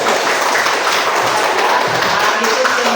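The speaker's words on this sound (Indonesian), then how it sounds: "tepuk tangan dulu" A school class clapping hands together for a classmate's clay ashtray project, a dense, steady, loud patter of many hands with faint voices mixed in.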